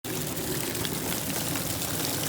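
Heavy rain pouring down outdoors, a dense, steady wash of hiss and splatter filling the whole moment without pause.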